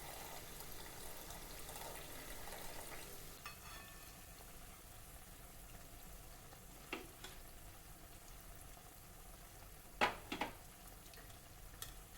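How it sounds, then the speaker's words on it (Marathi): Spinach pakoras (palak bhaji) fry in a pan of oil, giving a steady low sizzling hiss throughout, with a few sharp clinks and scrapes of a utensil near the end. "याच पद्धतीने राहिलेल्या पिठाचेही आपण भजी काढून घेऊयात"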